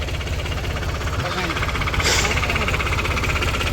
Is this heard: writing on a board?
no